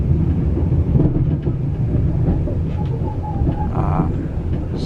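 XPT sleeper train rolling into Melbourne through the freight yards, a steady low rumble of wheels and carriage noise throughout, with a brief higher tonal whine near the end.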